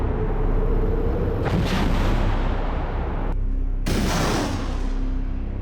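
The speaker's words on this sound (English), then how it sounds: "The goal of the Russians is to suppress resistance with a rolling barrage." Artillery barrage striking a settlement under a rolling bombardment, a continuous loud rumbling roar of blasts with two abrupt cuts in the sound.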